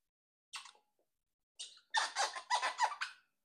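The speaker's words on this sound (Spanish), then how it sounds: "Así como rechinando de limpio." A freshly mopped, squeaky-clean floor squeaks underfoot in short, faint, high squeals: one brief chirp, a pause, then a quick cluster of four or five squeaks in a row, with quiet between.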